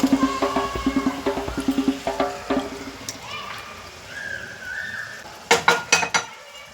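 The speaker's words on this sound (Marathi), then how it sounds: "आणि आता आपण हे हलवून घेणार आहोत" Prawns go into a pot of biryani masala and are stirred, giving a run of rhythmic metallic scrapes and clinks of a spoon against the pot, then a pause and a final quick burst of clatter.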